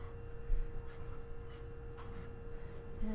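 Marker or chalk writing on a board, with soft repeated strokes and squeaks at moderate level over a steady background hum, no talking.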